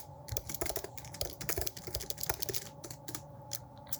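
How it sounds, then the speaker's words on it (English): Typing on a computer keyboard: a steady run of quick, light key clicks at close range, alone without any voices. "you can just type things in here"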